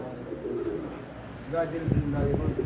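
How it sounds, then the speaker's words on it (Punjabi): Teddy, Golden, Paras and Ferozpuri pigeons coo in soft, low repeated calls close by, with someone talking over them throughout. "ਸਾਰੇ ਇੱਕ ਤੋਂ ਇੱਕ ਕਬੂਤਰ ਹੈਗੇ ਆ ਜੀ ਵੇਖ ਲਓ"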